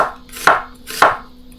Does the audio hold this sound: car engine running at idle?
no